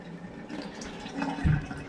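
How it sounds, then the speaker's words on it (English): Water draining out of an Everflo unit after its drain button is pushed, a low, steady gurgling rush of liquid at close range that swells briefly near the end. "there's also a button right here that all I have to do is push it, and all the water drains out of the unit"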